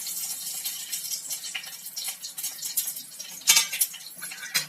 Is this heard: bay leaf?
yes